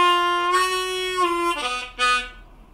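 A blues lick on a harmonica in A with easy third tuning, a bent draw note sustained then released into a few shorter reedy notes, played solo and close.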